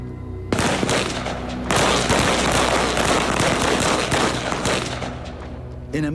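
Paratroopers fire their weapons in a dense, sustained volley of loud, close gunshots that crackle continuously after a brief opening burst.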